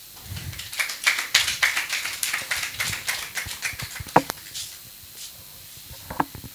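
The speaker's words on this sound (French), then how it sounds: "le président, M. Padonou, que je vous prie d'applaudir, s'il vous plaît." A studio audience applauds a guest invited onto a talk show about nutritionists and dietitians, a fairly faint patter of clapping hands that thins out to a few scattered claps.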